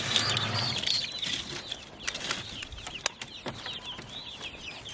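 Several chickens out on grass cluck and chirp repeatedly in short, irregular calls, close by, with faint rustling and occasional wing movement underneath.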